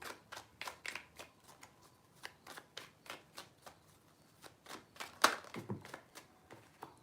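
Tarot cards being shuffled in a series of quick, crisp riffles and taps with a steady rhythm, close and alone, with one louder snap near the end.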